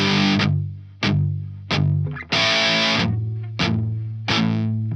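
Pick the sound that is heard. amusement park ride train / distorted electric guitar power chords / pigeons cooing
distorted electric guitar power chords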